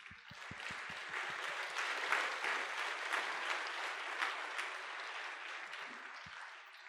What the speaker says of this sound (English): Will you please join me and give a round of applause thanking National Life for supporting this concert?